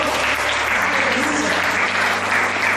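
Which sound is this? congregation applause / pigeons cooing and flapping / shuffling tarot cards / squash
congregation applause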